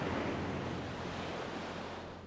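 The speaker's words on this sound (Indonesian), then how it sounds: "Aku masih bisa mendengar bunyi ombak yang datang dan pergi." Ocean waves roll in and wash onto the shore as an audiobook sound effect, a continuous broad hiss of surf that starts strong and slowly fades away, with no voices.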